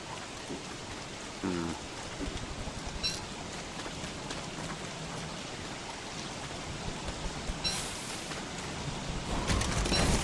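Steady rain falling in the Don't Starve video game, a constant hissing wash with scattered sharper drop-like bursts and a brief louder crackle near the end, no voices.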